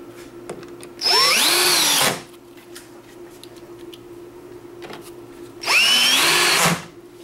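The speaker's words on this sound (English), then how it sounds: "I'm going to turn the torque way down so you can see the clutch is slipping there" Cordless screwdriver driving lock latch screws with the torque set low so the clutch slips, close by: two whirring bursts of about a second each with a ratcheting clutch chatter, separated by a quiet pause.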